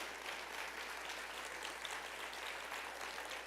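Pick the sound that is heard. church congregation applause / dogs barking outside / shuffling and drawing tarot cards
church congregation applause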